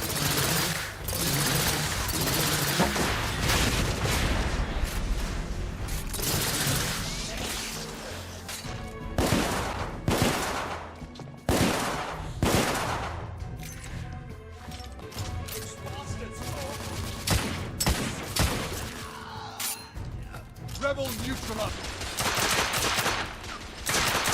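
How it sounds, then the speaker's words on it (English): Loud, punchy bursts of video game weapon fire and rapid automatic shots crack and echo repeatedly, with crashes and impacts mixed into a dense, chaotic soundscape. "The sound of the weapons, they're punchy, they're loud, they let you know."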